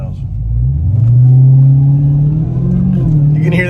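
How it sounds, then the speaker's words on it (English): A Dodge Demon's engine runs at close range with a low rumble and a rising supercharger whine, and voices can be heard nearby. "You can hear that supercharger"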